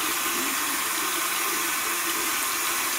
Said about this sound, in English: I'm just gonna get my face wet.